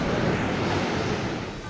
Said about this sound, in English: Hissing Waves.